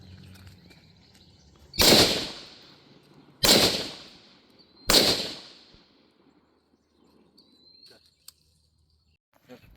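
An AR rifle fired three times at a training session: three loud, sharp reports about a second and a half apart, each trailing off in a short echo before quiet returns.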